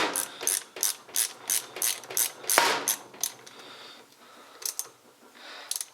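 A ratchet wrench clicks in quick, evenly spaced bursts while snugging metric bolts on a Harley Big Twin starter, close and crisp. A clunk comes partway through, then a pause and a couple of final clicks.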